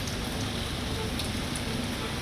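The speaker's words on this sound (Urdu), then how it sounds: "ایک دم موسم میں تبدیلی آئی اور تیز ہوا کے ساتھ بارش کا آغاز ہو گیا" Heavy rain driven by strong wind in Karachi, a dense, steady hiss of downpour that holds at a constant loud level throughout with no voices.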